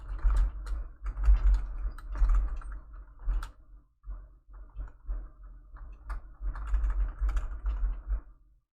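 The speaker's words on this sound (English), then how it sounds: "Chat, can you hear me typing?" Rapid typing on a computer keyboard, close by, with dense clicking bursts, a brief lull in the middle, then another quick flurry of keystrokes before it stops.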